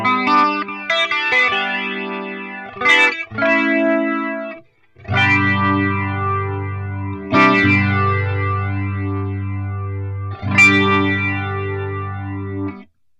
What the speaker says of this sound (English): kind of a phasey sound.